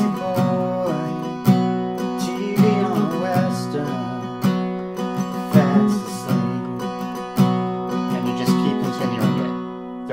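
Acoustic guitar strumming the verse chords in a steady rhythmic pattern, full and close, with no voice over it.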